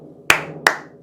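Three sharp, loud hand claps land at an even pace during a rhythm exercise, each one crisp and close with a short ring after it.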